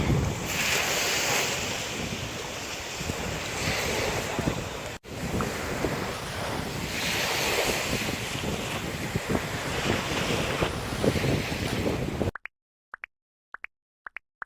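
Sea waves wash steadily against the shore beside a seaside cafe in Pattaya, a loud, continuous roar of surf with wind buffeting the microphone. It stops abruptly, leaving a few faint clicks and no voices.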